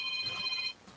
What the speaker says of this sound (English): It is a caller on my phone.